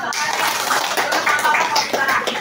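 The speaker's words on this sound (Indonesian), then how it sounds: "Tepuk tangan dulu." An audience of teachers at a coding and artificial intelligence training session claps hands together, a dense burst of loud, close applause lasting a couple of seconds.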